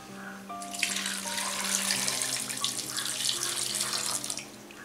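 Water runs in a steady, loud gushing stream into a pot of potatoes, cauliflower and peas for pav bhaji, lasting several seconds over a faint background hum with no talk.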